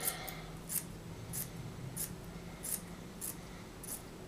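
Scissors cutting furnace filter material into pine tree shapes, seven crisp snips at a steady rhythm about every two-thirds of a second, faint and close against quiet room hiss, no talking.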